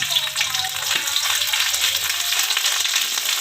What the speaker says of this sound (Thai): นี่แล้วก็คั่วพริกแกงให้หอมนะครับ